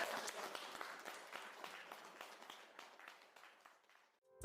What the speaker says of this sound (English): let's just give a huge round of applause